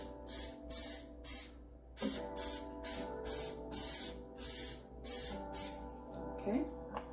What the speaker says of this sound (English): the way we do it here is just spray it. You can use vegetable oil, canola oil,